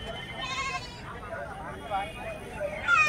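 Goats bleat close by at a busy livestock market, several quavering cries overlapping amid crowd murmur and people talking.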